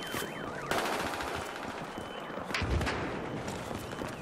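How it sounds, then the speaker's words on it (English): Hip-fired gunfire rings out in Battlefield Hardline multiplayer as fast, rapid bursts of automatic shots, fairly faint and mixed with other game noise. "I am hip firing these dudes to death."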